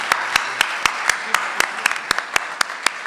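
An audience gives a round of applause for panelists at the close of a hearing on religious liberty, steady close clapping with sharp individual claps standing out in an irregular rhythm, no talk.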